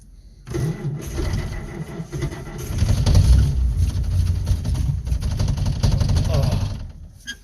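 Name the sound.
engine cranking, trying to start without fuel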